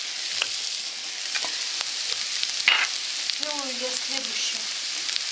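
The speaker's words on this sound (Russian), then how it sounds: "Лук вот чуть-чуть обжарился. Опускаем сюда грибочки. Перемешиваем." Mushrooms tipped into a pan of lightly fried onions and stirred, giving a steady sizzle with scraping stir strokes and a brief louder burst midway; someone speaks briefly over it.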